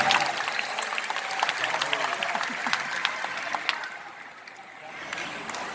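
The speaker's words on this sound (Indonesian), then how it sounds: "Boleh tepuk tangan buat semua yang ada di sini." An audience applauds at a political speech to volunteers, with loud, sustained clapping throughout and a crowd murmur underneath.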